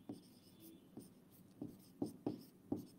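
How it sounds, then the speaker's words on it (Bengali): Chalk or marker strokes on a classroom board during a physics lesson, a series of short scratchy taps and squeaks at irregular intervals, close and fairly quiet with no talking. "আমি একটু লিখে দেই,"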